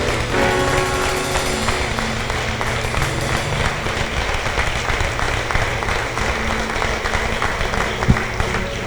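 A church congregation at an evangelical service applauds, with dense, steady clapping from many hands filling the whole stretch at close range and a faint voice underneath.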